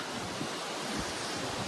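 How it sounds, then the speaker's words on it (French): Strong wind blows outdoors by the sea on a Guadeloupe garden terrace, a loud, steady rushing roar with buffeting against the microphone throughout. "Je sais pas si vous entendez avec le vent."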